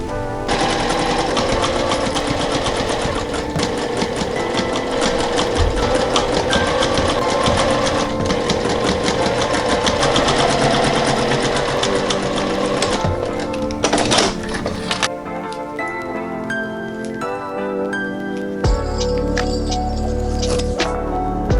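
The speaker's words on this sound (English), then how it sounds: "And now I need to just sew all the way around, leaving the tops open." A sewing machine sews loudly and close for most of the stretch, a continuous rattling hum, then shifts to intermittent short bursts and clicks with brief pauses.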